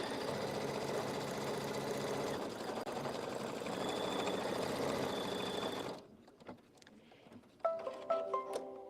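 An embroidery machine triple-stitching a Santa beard applique runs with a steady, loud mechanical whirr and rapid needle patter, then stops; faint talk follows.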